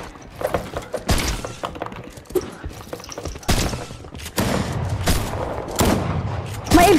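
Shotgun blasts in an online multiplayer shooter: irregular loud thumping shots, some in quick clusters, with impact and shatter noises and a busier stretch of firing toward the end; brief talk mixed in.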